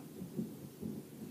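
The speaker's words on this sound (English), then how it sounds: "Sorry about the thunder." Thunder rumbling during a thunderstorm, low and muffled, rolling in soft repeated swells that sound fairly distant, with no voices.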